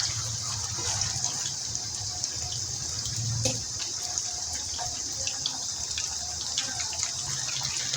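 Tap water runs steadily into a sink while raw chicken is washed for a white karahi, a constant close gush with small splashes and a brief clatter partway through.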